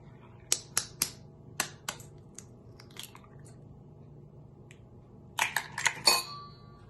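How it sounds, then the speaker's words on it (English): Sharp taps and cracks of two eggs being broken for banana nut bread batter, a series of crisp knocks spaced out, then a quick cluster of clicks near the end, close and quiet. "We will first start by breaking our 2 eggs."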